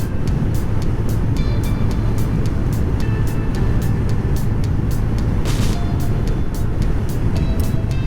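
A CFMOTO 300NK motorcycle cruising in sixth gear at 110 km/h gives a loud, constant roar of wind buffeting and engine drone, with faint ticking on top and no talking.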